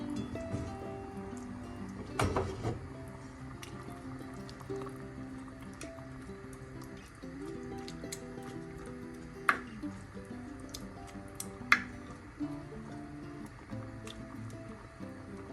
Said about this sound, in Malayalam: ഈ സമയം നമുക്ക് വെള്ളച്ചൂര ഓരോ കഷ്ണമായി പെറുക്കിയിടാം